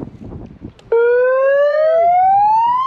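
A siren blast bursts out loud and close after a short stretch of background noise, a rising electronic wail that holds steadily to the end.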